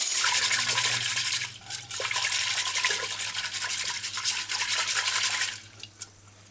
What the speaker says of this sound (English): Just rinse it off with some fresh water.